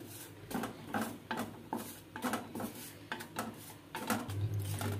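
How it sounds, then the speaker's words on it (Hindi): Maize flour roasting over a low flame in a pan for banana barfi, with a spoon scraping and knocking in a steady repeated rhythm, close and fairly quiet. "कम फ्लेम पे आप इसे भूनेंगे अच्छे से"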